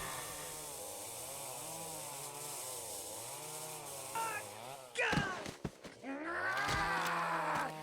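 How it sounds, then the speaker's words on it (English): Chainsaw duel in the survival horror game ObsCure 2: a buzzing, warbling saw drone runs steadily, then bursts of revving, clashing and impacts break in before the droning returns loud and close. "Which cues us into a quick time event of a chainsaw duel between Corey and Jed."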